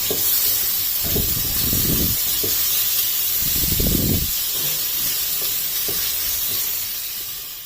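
Chicken breast strips frying in a pan, a close hissing sizzle with bursts of spatter and stirring scrapes, easing off toward the end.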